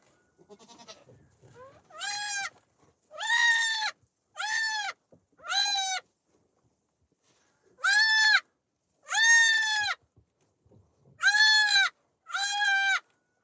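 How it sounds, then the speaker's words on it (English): A goat bleats loudly and close by, eight separate calls coming in pairs and small groups with pauses between them, over a quiet homestead background. "You guys can look at this goat while I help this other one."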